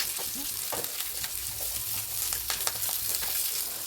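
Sliced okra fries and crisps in a pan for a Kerala-style pachadi, a steady oily sizzle broken by several scraping stirs of a spoon against the pan, close and continuous with no talking.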